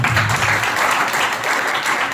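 Applause at a Teachers' Day celebration honoring a teacher, a dense, steady clapping from a crowd that fills the whole moment without a break.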